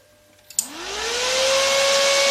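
Cooling fan of a PocWeld welding power supply switching on after a couple of soft clicks, spinning up with a rising whine into a steady, loud airy whoosh close by, with no talk.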